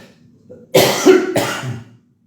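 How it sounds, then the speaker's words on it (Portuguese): Two harsh, dry coughs close to the microphone, one after the other, with a slightly raspy throaty edge. "Essa tossinha seca é terrível."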